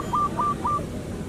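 A bird gives three short, clear whistled calls in quick succession, moderately loud over faint background noise.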